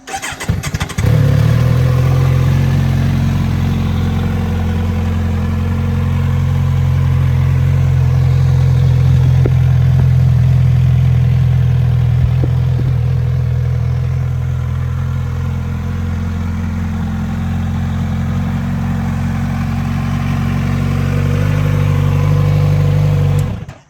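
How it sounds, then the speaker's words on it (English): A Kawasaki Z900RS motorcycle engine starts up and settles into a loud, steady, deep idle rumble, close and continuous for most of the clip before cutting off. "Let me start up the bike so you guys can actually hear it."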